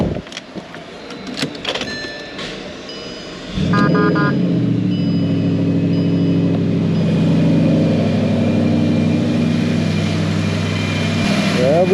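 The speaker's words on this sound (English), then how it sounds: "so now we could start the car and it's good to go" A crash-damaged Bentley GT3-R engine cranks and fires up after a few seconds of quiet clicks and mechanical noises, then settles into a loud, steady idle that continues to the end.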